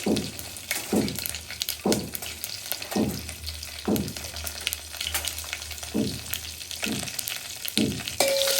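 Dried red chillies, green chillies and curry leaves fry in hot oil in a home kitchen, a steady close sizzle broken by regular scraping stirs roughly once a second, with no talking.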